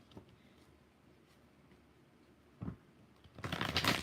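Cards of a cheap five-dollar Five Below tarot deck are shuffled in a quiet room: a brief riffle, a short burst near the middle, then a louder, denser flurry of card flicking at the end.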